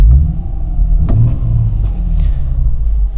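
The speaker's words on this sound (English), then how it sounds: "Now if I give it a little bit of gas," A car engine rises in a short rev as the accelerator pedal is pressed, a loud close rumble that swells and holds for a few seconds.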